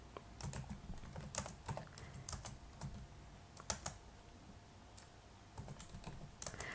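Computer keyboard typing at a desk, a run of quick key clicks in irregular bursts with brief pauses, close and fairly quiet, no talking.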